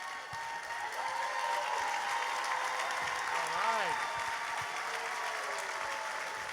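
A large audience at a live event applauds steadily throughout, a dense even wash of clapping with a voice talking over it in the middle.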